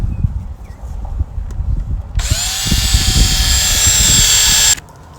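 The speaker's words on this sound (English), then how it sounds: "here is where I'm going to want to drill one hole" A power drill whines steadily for a couple of seconds at close range while drilling a hole in plastic, high and even in pitch, then cuts off abruptly.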